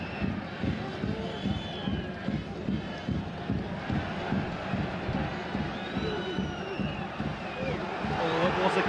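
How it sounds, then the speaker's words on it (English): A football crowd roars steadily at Markazi Stadium during an Asian Champions League group match between FC Nasaf and Sharjah FC, a dense, loud, continuous wash of cheering and noise filling the whole stretch. "with the roar of the crowd at the Markazi Stadium"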